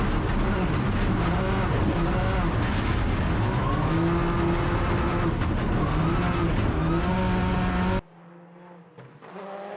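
Rally car driven hard through tight, twisty stage roads at the 2021 Rally of Hawke's Bay in New Zealand, engine loud and close with rising and falling revs, then cutting abruptly to a quieter, more distant engine note.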